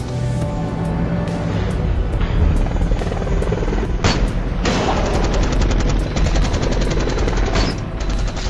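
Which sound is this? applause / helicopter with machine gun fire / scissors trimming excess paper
helicopter with machine gun fire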